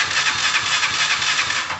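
A motorcycle's electric starter cranks on and on without the engine catching, a continuous whirring, pulsing grind close up and loud, with no voices over it.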